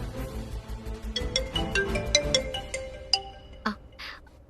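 A mobile phone ringtone plays during an indoor scene in a Tamil TV serial: a run of bright, chiming melodic tones with sharp note onsets, moderately loud over a faint background.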